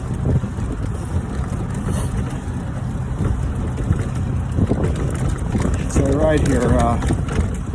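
Wind rushing over a velomobile ridden along a plowed snowy winter trail: a steady, loud, low roar throughout, with someone talking over it.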